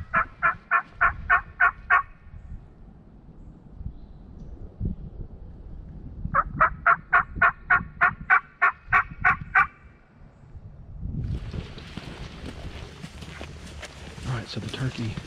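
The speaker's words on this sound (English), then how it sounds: "the turkey, he was gobbling right on this power line right here in front of us" A wild turkey gobbles from a power line just ahead, delivering two rapid, rattling bursts of gobbles separated by a quiet pause. It is fairly close and loud outdoors.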